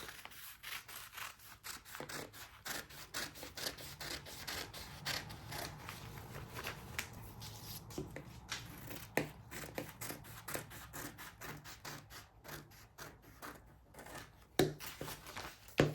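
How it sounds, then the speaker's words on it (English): Scissors cut a dress sleeve out of fabric for an A-line dress, giving a steady run of soft crisp snips and rubbing rustles at close range with no talking. "Now you will cut the sleeve out."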